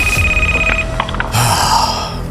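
A telephone ringing in a phone call scene in a plush office: a loud, close electronic ring that stops partway through, followed by brief handling noise and a shift in the background hum.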